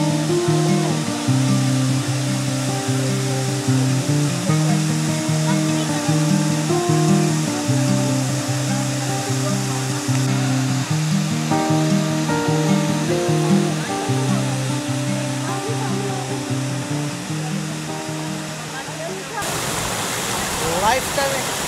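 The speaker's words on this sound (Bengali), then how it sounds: "800 ফিট উপর থেকে ঝর্ণাটা পানিটা বয়ে পড়তেছে এবং বিশাল আকারের একটা কিন্তু ঝর্ণা এখানে" Aber Falls in North Wales, swollen after overnight rain, roars as water drops some 800 feet; the steady broadband rush runs the whole way through beneath louder rhythmic music.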